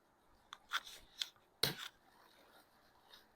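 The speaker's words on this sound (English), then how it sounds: "So I'm going to just cut that one right" Scissors snip through plant stems during autumn plant care, giving a few quiet, crisp clicks spaced over a couple of seconds, with one sharper, louder cut near the middle against a near-silent background.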